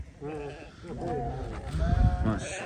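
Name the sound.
sheep bleating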